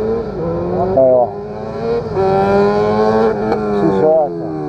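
An XJ motorcycle rides a kart track during a riding course, its engine revving up and down in rising and falling sweeps as it accelerates and brakes. Loud and close throughout.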